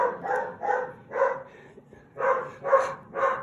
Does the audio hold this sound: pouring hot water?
no